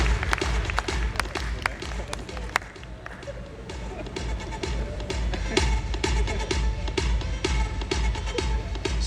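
Applause and scattered clapping from the audience at a distributor training event led by Mr. Manoj Tiwari, a steady rattle of hand claps with some crowd noise that lasts the whole stretch.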